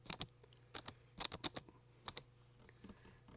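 Keys tapped on a computer keyboard in quick irregular bursts of close, crisp clicks over a low steady hum, with no talk.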